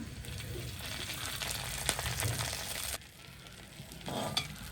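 Curry leaves and fennel seeds sizzle in hot oil for a dried red chilli chicken curry, a steady crackling fry that drops away briefly before flaring up again near the end.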